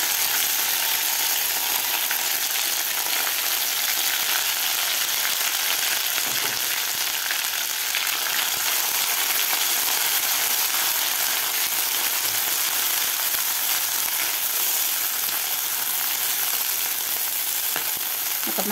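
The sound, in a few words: masala sizzling while being sautéed in oil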